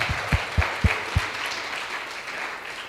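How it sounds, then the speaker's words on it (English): Applause at a conference session, a dense patter of hands at moderate volume with a few heavier claps near the start, settling into a softer, even wash. "Let's give her another round of applause."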